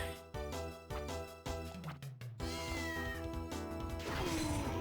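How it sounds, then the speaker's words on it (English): A cartoonish cat meows repeatedly in the Nintendo DS game Castlevania: Order of Ecclesia, the mews rising over looping game music with no talking. "One downside is the cat meows a lot."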